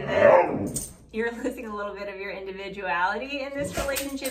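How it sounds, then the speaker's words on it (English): A dog whimpers and whines close by with high, wavering cries, partly under someone speaking. "That's my dog whining in the background."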